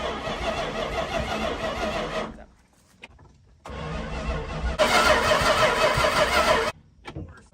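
An old engine is cranked repeatedly while its points are being adjusted, giving bursts of churning starter and engine noise broken by short pauses and brief clunks, with no one talking.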